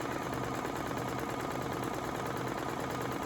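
A Brother Essence VM5200 sewing machine stitching a zigzag pattern, a faint, steady rapid mechanical whirr that runs evenly throughout.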